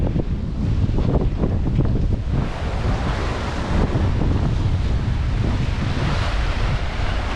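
Sea waves crash and spray against rocks on the Dubrovnik coast, a loud, continuous surging wash heavy with wind buffeting the microphone, with no voices.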